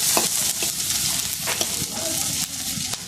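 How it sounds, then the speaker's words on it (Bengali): Onion, garlic and dried red chillies fry in hot oil for a fish curry, a loud steady sizzle broken by occasional scrapes of stirring, up close and without talk. "মাছের ঝোল রান্না করার জন্য আমি পেঁয়াজ, রসুন আর শুকনো মরিচ ভেজে নিব"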